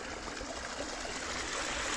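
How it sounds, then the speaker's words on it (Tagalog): Strong water rushing steadily through a farm channel among eggplant fields, a continuous broadband hiss and gurgle heard close and alone, with no breaks over the whole stretch. "Ang laka po ng tubig dito."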